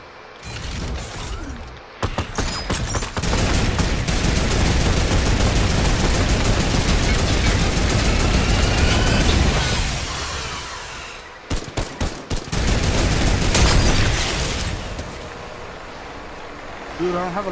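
Sustained loud gunfire in a Fortnite squads match, a dense continuous barrage followed by clusters of sharp shots, with players talking over it.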